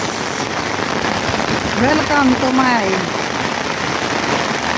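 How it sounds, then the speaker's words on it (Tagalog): Heavy rain pours steadily outdoors while someone walks alone, a dense, unbroken hiss filling the whole stretch, with a person's voice speaking briefly over it midway. "Sobrang lakas ng ulan guys."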